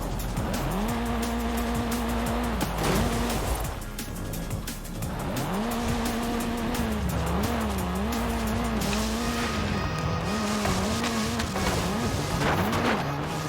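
A Volkswagen Scirocco in Forza Horizon 5 revs hard and steadily through gear changes, engine pitch sweeping up and down with occasional tire squeal, loud and continuous throughout.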